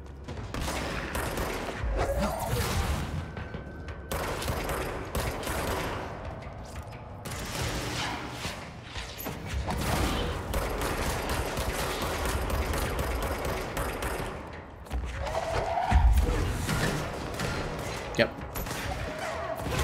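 Weapon fire in the video game Control: bursts of rapid shots and mechanical clatter go on almost the whole time, mixed with game effects and a voice talking over them.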